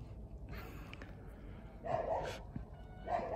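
A dog whimpers and lets out high yips in short bursts, fairly close, over a rough outdoor background with some talking nearby.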